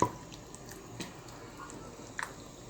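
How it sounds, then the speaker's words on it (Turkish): Lutenitsa sauce with olive oil and salt being stirred, giving soft, quiet wet squishes and a few faint drip-like clicks over about three seconds. "Şimdi karıştırmaya devam ediyorum"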